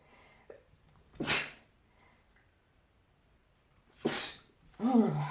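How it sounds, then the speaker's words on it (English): Two sharp, sudden sneezes spaced a few seconds apart in a quiet room, followed by a brief voiced sound. "Excuse me, I have to sneeze."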